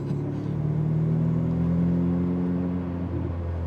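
Ferrari 488 Pista supercar, 720 horsepower, idling or cruising off the throttle: a steady, loud low engine drone with a faint higher whir, continuous and unbroken throughout, with no voices.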